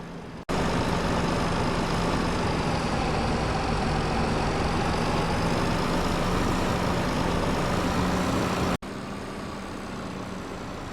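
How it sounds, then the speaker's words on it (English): A tractor in a farming video game drives along with a steady, loud diesel drone and a low rumbling hum that holds evenly for several seconds, briefly cutting out near the start and end. "instead of driving all the way to the feeding trough and back with the tractor"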